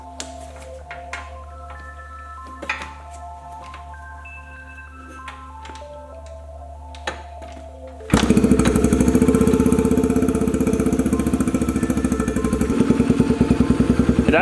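Yamaha TTR125 motorcycle engine on choke fires up after a few quiet clicks and handling noises, then settles into a loud, close, rapid, steady idle chugging to the end.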